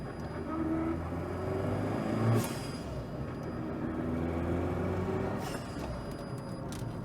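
A car engine with a faulty idle runs steadily with a low, uneven rumble, a few brief louder bursts rising over the constant drone.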